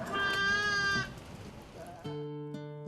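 Sheep bleat loudly at close range at a ranch fair, two drawn-out, wavering calls separated by a brief pause, against faint crowd noise.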